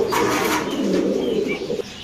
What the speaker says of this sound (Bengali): এগুলো সাদা লাহরি কবুতর আপনি দেখতে পাচ্ছেন